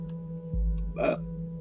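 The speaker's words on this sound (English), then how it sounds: "Burps are big." A single short burp-like vocal burst, close and moderately loud, over a steady low hum of game background music, with no talk.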